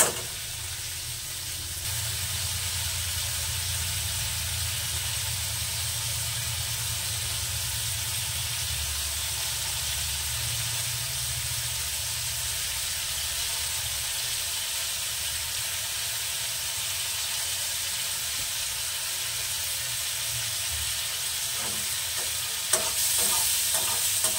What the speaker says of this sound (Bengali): মাছ কটা আমি ভেজে নেবো, তবে খুব কড়া ভাজবো না, নরমালি হালকা ভাজবো